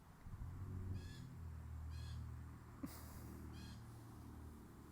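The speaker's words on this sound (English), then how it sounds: "I'm here with some blue jays in my backyard. Can you hear them squawking?" Blue jays give harsh, raspy squawks about four times at a steady pace in a backyard, sounding some distance away over a low background rumble.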